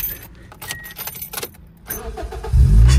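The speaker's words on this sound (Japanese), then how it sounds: "これじゃあエンジンかかるかやってみましょう。" A Toyota Succeed van's engine is cranked and catches at close range after a rattle of keys and light handling noises, ending in a loud rumbling idle.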